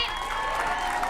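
A brief, dense burst of clapping from a comedy club audience at a Levity Live stand-up show in Oxnard, a steady wash of applause from a crowd that sounds fairly near.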